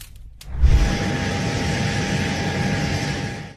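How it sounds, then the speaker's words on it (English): A Russian military helicopter flying over the mountains of Sakhalin Island produces a loud, steady engine roar that swells in after a quiet start and holds continuously, with no speech. "A Russian military helicopter was flying over the mountains of Sakhalin Island in 2023"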